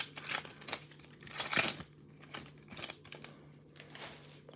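Topps Chrome WWE trading card packs being torn open one after another, a series of quick crinkly foil rips with short pauses between them, close and fairly quiet.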